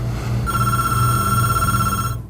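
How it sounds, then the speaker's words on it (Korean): A telephone bell rings in a steady trill for about two seconds, loud and close, over a low background hum, with no one speaking. "그때 걸려오는 전화."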